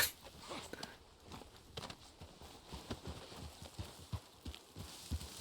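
Hooves of a horse in a video game clip-clop at a steady walking pace, a little muffled, with faint game ambience around them and no talking.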